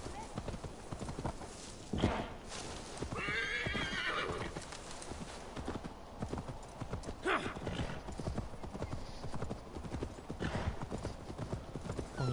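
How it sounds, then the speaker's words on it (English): Horse hooves in the game Assassin's Creed Valhalla clip-clopping at a steady galloping rhythm, with a horse whinnying partway through and a person talking over it. "And this horse starts riding faster."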